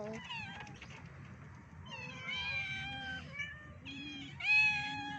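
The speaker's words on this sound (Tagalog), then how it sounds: "Daming pusa." A chorus of cats mewing, with repeated rising and falling cries from several animals close by, one louder meow standing out near the end.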